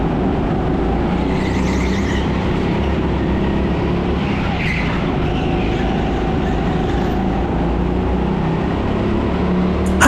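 Go-karts race at the TeamSport Sheffield indoor track, a loud, continuous droning engine roar from close by that holds steady throughout, with no voices.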